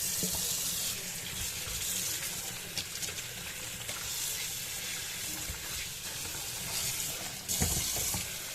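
Drumsticks are washed under a running kitchen tap, giving a steady close splash of water with a few brief clatters of handling at the sink.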